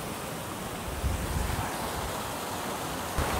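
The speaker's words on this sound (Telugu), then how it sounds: "అసలు వాటర్ ఫాల్స్" The waterfall at Flume Gorge, New Hampshire pours with a steady, broad rushing roar, heard at moderate volume and without voices.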